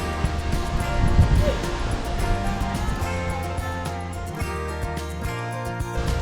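Rushing water pours from the Seven Sisters waterfall in North Sikkim as a steady, close, broadband roar with light wind buffeting, and faint voices may be heard under it.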